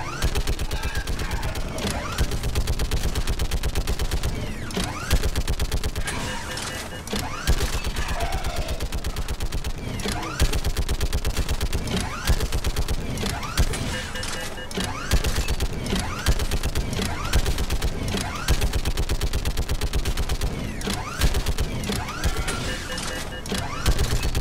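Turret guns firing in a mini-game section of the sci-fi shooter Mass Effect 3, rapid continuous bursts that keep going for the whole passage with little pause, loud and dense, with a voice talking at times.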